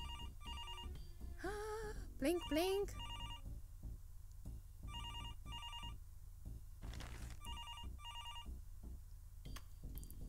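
A telephone rings in the adventure game Demetrios: The BIG Cynical Adventure, with electronic rings repeating in regular bursts while a voice speaks briefly between them.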